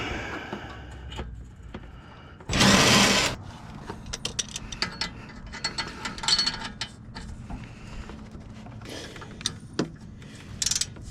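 A ratchet wrench works under a Chevy Malibu during a repair, giving scattered mechanical clicks and rubbing noises with one loud, harsh burst of a couple of seconds near the start. No one speaks.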